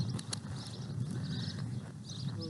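Horses at a ranch give a few close hoof clops and some shuffling over soft background noise. The sound is quiet and short, and nobody speaks.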